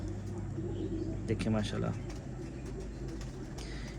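Pigeons coo softly in a home loft of old Kamagar and Jaldar breed birds from Kasur, low murmuring calls running beneath someone talking close by.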